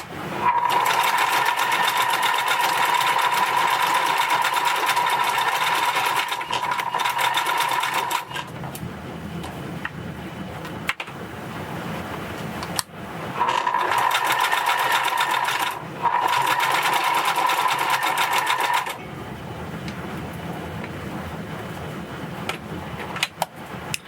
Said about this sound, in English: I'm going to not talk while I'm sewing because I'm sure you won't be able to hear anything